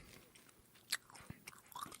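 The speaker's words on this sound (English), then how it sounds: "can you be an adult and be a professional and not chew fucking gum on a podcast?" Someone chews gum quietly, with a few soft, wet smacks and clicks spread unevenly over a couple of seconds, faint and close to the microphone, without clear talk.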